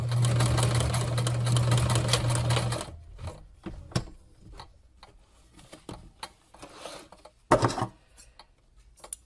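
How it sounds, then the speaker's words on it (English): A sewing machine stitches a seam of bias tape for cosplay in a steady close whirring run of nearly three seconds, then stops, followed by scattered clicks and handling taps. "I sew it the width of my presser foot"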